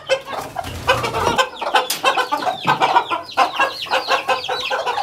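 Hens and chicks cluck and peep close by in a backyard flock, a busy run of overlapping short clucks and chirps with no pauses.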